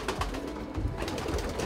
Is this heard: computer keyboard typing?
no